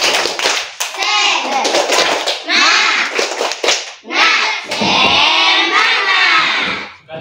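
A class of fifth-grade children stands and does a rhythmic spirit clap, with loud bursts of patterned clapping mixed with children chanting and shouting together in a classroom.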